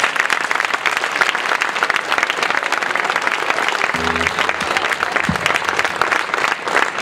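A live concert audience applauds for a band, sustained dense clapping from a crowd throughout, loud and close, with a short tonal sound briefly under the middle.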